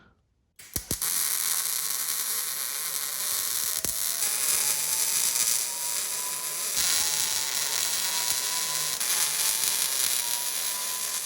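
A steady, loud whirring grind of a 1.25-inch hole saw drilling through metal runs continuously after a brief start, with a slowly rising whine.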